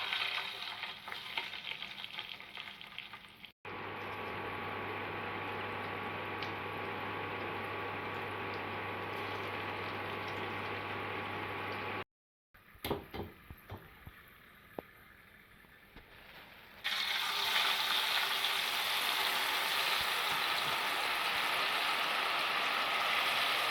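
Potato sticks for crispy homemade chips frying in hot oil: a steady, dense sizzle that cuts out briefly, resumes with a few crackles, and then swells louder and brighter.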